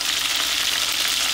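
Steady, dense sizzling of flour-coated beef frying in a hot pan, a continuous crackling hiss with no voices.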